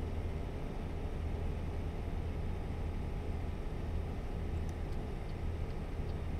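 Steady, even drone of a truck engine in American Truck Simulator, a low, unchanging rumble with road noise that holds constant throughout.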